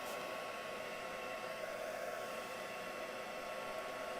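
A heat tool blows hot air to dry ink spray on a mixed media piece, making a steady, loud, close whooshing drone that holds constant throughout with no talk.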